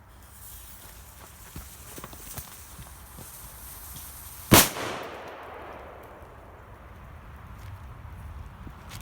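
A firecracker blows apart a computer mouse in a single sharp, loud bang partway through, followed by a decaying rumble over outdoor background noise.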